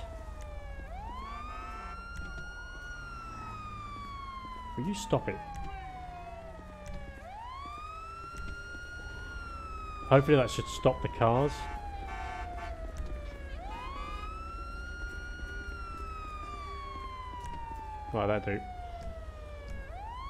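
A video game police car siren wails in repeated rising and falling sweeps while someone talks over it, with a few thuds and clatters along the way.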